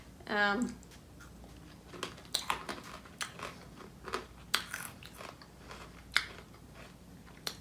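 Ringolos barbecue chips, hard ring-shaped snacks, crunched and chewed close up in a string of sharp bites and gritty grinding, with a voice heard briefly near the start.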